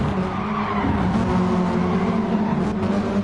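Toyota S-FR touring cars racing wheel to wheel, bumping and sliding, with loud continuous engine roar and tire scrub up close throughout.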